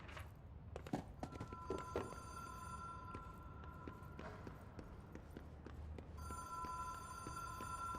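A telephone rings in the video game Control, a steady electronic ring sounding in two separate stretches, with soft footsteps and thuds moving beneath it.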